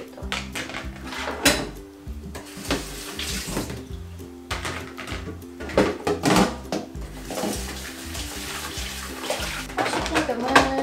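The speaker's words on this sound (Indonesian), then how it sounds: "aku kalau masukin ke mesin cuci piring itu aku bilas dulu biar nggak kotor" Running water splashes steadily into a sink while dishes clink and rattle nearby, with a voice talking intermittently over the noise.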